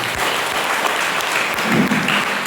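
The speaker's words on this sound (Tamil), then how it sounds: "கைத்தட்டு" A hall audience at a Tamil Nadu government music school Thevaram students' association event breaks into dense, steady applause, loud and even from start to finish.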